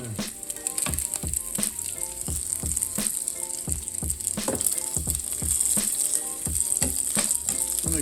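Iguana meat sizzling steadily in a pan of butter and olive oil, a constant bright crackle broken by frequent scrapes and clinks of a utensil, close and fairly loud, with no talking.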